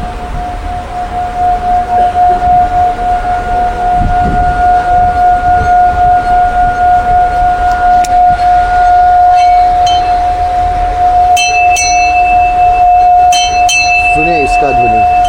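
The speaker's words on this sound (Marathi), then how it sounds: "ये ऐसी घंटा जो पूजा के लिए, आरती के लिए ऐसे बजाइए और इसका ओम का ध्वनि सुनिए" A five-metal panchdhatu puja bell used for aarti is struck at a crowded fair ground, giving a loud sustained ringing tone with a long humming resonance, later joined by brighter clinking strikes over background crowd noise.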